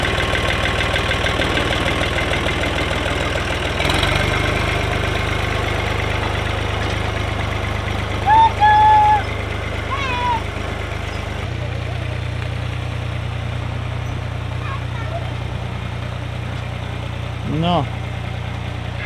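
A tractor engine idles during a potato harvest, a steady low rumble running throughout with a slight shift partway, close by, with faint voices and a few brief higher chirps over it.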